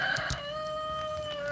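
Chickens cluck and a rooster crows close by in a Texas winter storm of sleet and ice pellets, with short bursts of fowl calls over a steady outdoor background.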